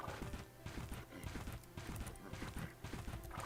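Steady rhythmic hoofbeats of a horse in the Bella Sara video game, a quick continuous clip-clop over a dense, busy game soundtrack.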